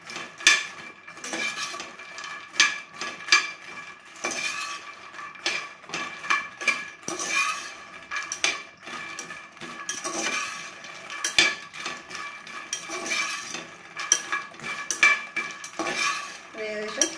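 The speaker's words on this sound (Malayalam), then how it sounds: "നല്ല ക്രിസ്പി ആയിട്ട് ആകുന്നത് വരെ റോസ്റ്റ് ചെയ്യുക" Puffed lotus seeds roasting dry in a pan, with steady scraping and clinking of a spoon against metal as the seeds are tossed and stirred, a busy irregular rattle running continuously and close up.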